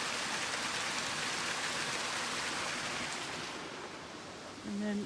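Black Brook, a stream crossing cow pasture, runs with a steady broadband rush of water throughout, close and continuous, easing slightly near the end with a brief faint tonal sound at the very close.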